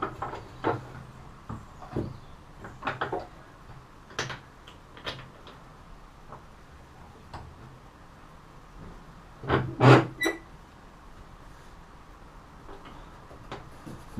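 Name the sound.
wooden candle holder being clamped in a vise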